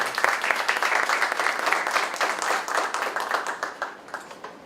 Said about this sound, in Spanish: Un aplauso para el licenciado.